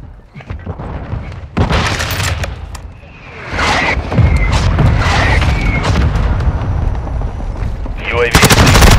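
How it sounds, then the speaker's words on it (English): A mortar strike with gunfire in Call of Duty: Modern Warfare II, loud booming impacts and bursts of automatic fire layered into a dense, continuous battle roar, with spoken radio callouts mixed in. "Our mortar strike is inbound."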